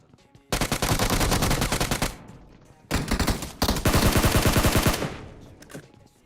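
Rapid bursts of automatic gunfire in PUBG Mobile, two long volleys separated by a short pause, loud and close, ending with fading echoes.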